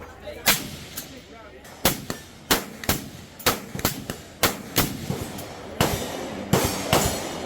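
Sharp gunshots fired one at a time at a steady pace, about a dozen reports with echoing tails, set over a low background murmur of people.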